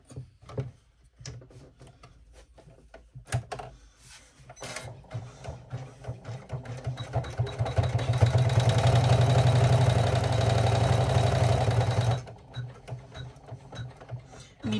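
Embroidery machine stitching a water bottle sling bag, a steady mechanical whirring and rapid needle rattle that builds louder in the middle and stops near the end, with no talking.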